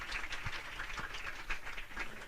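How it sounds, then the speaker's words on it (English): Audience applause at a book event with mystery novelist Sue Grafton, a faint, continuous patter of many hands clapping at a distance, with no speech over it. "Round of applause."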